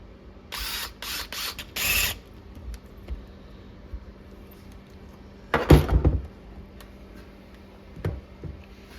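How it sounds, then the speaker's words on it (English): Bolt with an 8mm (5/16) head driven through a drilled hole while fitting a paddle shifter kit on a 2011-2014 Ford Raptor: two close bursts of quick mechanical clicking, then a faint single tap. "we'll start our bolt through that main hole we drilled"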